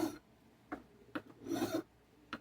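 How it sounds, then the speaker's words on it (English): Coarse file rasping across a metal part of an Athearn high-power drive for a Globe F7 A model locomotive, with several short separate strokes followed by a longer, louder grinding pass, close and clear. "I'm just going to see if the bigger file will take it off any better"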